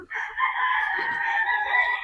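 A Boston Roundhead gamefowl rooster crows once, a loud, close, sustained cock-a-doodle-doo lasting about two seconds, with no talking.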